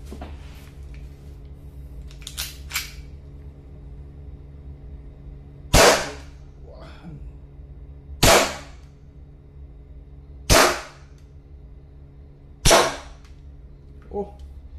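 Four sharp, loud shots from a WE Hi-Capa Force 3.8 gas airsoft pistol fired at a styrofoam target, spaced a couple of seconds apart, with softer clicks and handling noises between them, close by.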